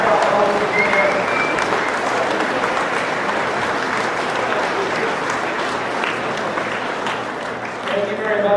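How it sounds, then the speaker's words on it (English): Sustained applause from a dinner audience fills the room as superintendents in new shirts stand to be recognized, steady and dense throughout, with some voices mixed in near the end. "stand and get a round of applause for all our superintendents"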